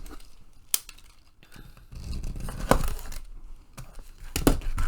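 Window cover material is trimmed of its overhang with scissors-like snips and crinkly rustling, a few sharp cuts standing out near and clear over soft handling noise.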